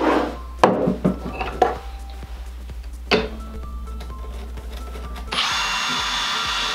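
A power drill drives screws to fasten casters onto the underside of a mobile garage storage cart, coming in several short whirring bursts with clunks between them and then a steadier, louder run of the motor at the end.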